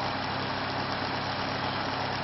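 A motor idles at low RPM with a steady, even drone that runs alone throughout, a continuous mid-loud hum with no breaks or pitch changes.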